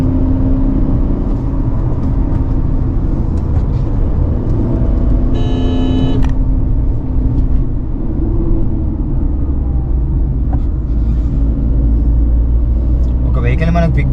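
A Tata Punch Creative on a test drive, its engine and road rumble a loud, continuous drone from inside the cabin, steady throughout with a brief rise in pitch, while people talk over it.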